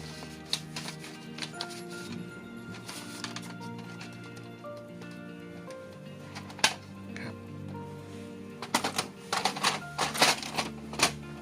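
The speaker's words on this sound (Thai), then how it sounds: "เลือกถาดให้เป็น A4 แล้วก็ใส่กระดาษเข้าไป" A4 paper loaded into the tray of a Brother DCP-T520W inkjet printer: plastic tray clacks, paper rustling and sliding, and sharp knocks, growing busier and louder toward the end.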